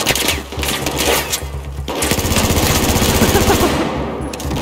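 Loud, very rapid machine gun fire in the Battlefield 4 campaign, a continuous buzzing stream of shots that keeps up for several seconds over the game's battle noise.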